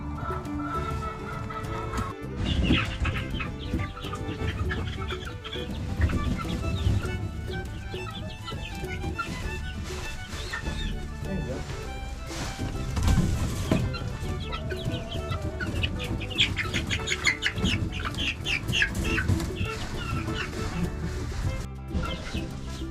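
Baby chicks being moved from a brooder to a barn cluck and cheep continuously, close and fairly loud, with a steady jumble of bird calls throughout.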